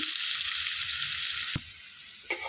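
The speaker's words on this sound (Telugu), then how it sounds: "సన్నగా తరిగి పెట్టుకున్న ఉల్లిపాయలండి ఉల్లిపాయలు వేసుకొని మంచిగా వేయించుకోవాలండి" Thinly sliced onions frying in a pan for a cabbage and chana dal curry, giving a steady, bright sizzle that drops suddenly after a knock, with a brief scrape near the end, close up, no talking.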